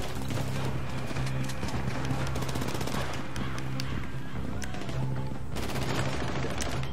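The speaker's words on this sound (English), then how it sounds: "who the fuck shot?" Gunfire in a GTA V Online session: rapid bursts and volleys of shots over a dense, loud game soundscape with clattering hoofbeat-like noise and steady background rumble.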